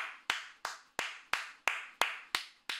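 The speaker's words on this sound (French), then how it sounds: "même j'applaudis" Eight sharp hand claps at a steady, unhurried pace, each crisp and close with a short ringing tail, and nothing else between them.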